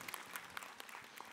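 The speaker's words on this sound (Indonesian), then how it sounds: "Boleh tepuk tangannya jamaah." A studio audience at an Islamic religious talk show claps in a brief burst of steady, fairly faint applause with dense overlapping hand claps throughout.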